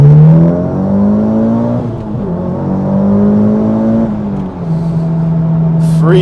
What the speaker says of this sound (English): This is rapid, this car.